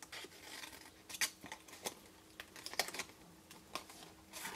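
Scissors snipping cardstock paper for a gingham butterfly lipped box, a few quiet close cuts and crisp paper rustles spaced irregularly through a faint background.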